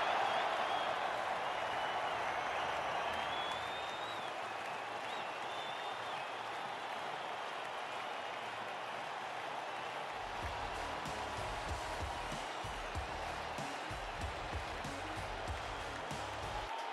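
Crowd in a cricket video game roaring and applauding after a six, a loud sustained wash of cheering and clapping that eases slightly but carries on throughout, without speech over it.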